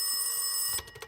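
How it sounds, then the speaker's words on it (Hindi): A telephone rings indoors at midnight with a continuous bright electronic trill that stops abruptly, followed by a few faint knocks or clicks. "जाके फोन उठाओ, एजेंसी वालों का ही कॉल होगा"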